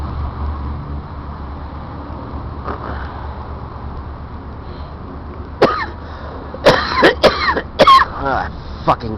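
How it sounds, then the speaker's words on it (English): A person coughs and clears their throat several times near a Metra train line in Roselle, a cluster of loud, close hacking bursts over a steady low rumble after a quieter stretch. "I'm sick of this fucking coughing."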